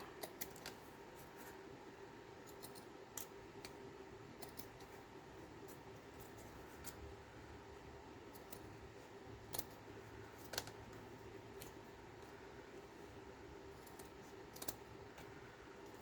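Scissors snip a row of handmade paper tags during a craft session, giving sparse, faint clicks and cuts scattered over a steady low background hum, with no voices.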